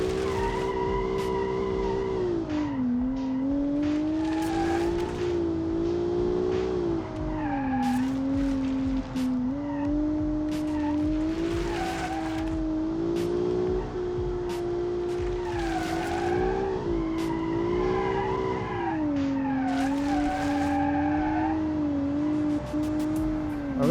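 Eco city hatchback with too much horsepower in BeamNG, engine droning steadily as its pitch rises and falls with the throttle, while its tyres spin and skid with repeated squealing bursts throughout.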